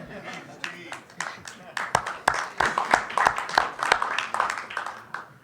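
Audience clapping at a lecture on First Nations and Palestinian land struggles, a run of sharp, fairly close claps building into scattered applause for several seconds, with no distinct cheering voices.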